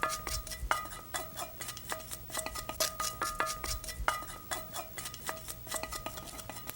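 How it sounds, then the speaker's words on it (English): A utensil scrapes urad dal and mustard seeds out of a pan for lemon rice, giving a close run of metallic clinks, knocks and scrapes in an irregular rhythm, with no talking. "Make sure you scrape every individual little urad dal and mustard seed out of there, like so"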